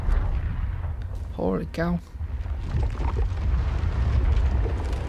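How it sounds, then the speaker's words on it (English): Deep, rumbling explosions fill the background in Injustice 2 gameplay, a dense roar beneath a voice speaking briefly over it. "Explosions everywhere."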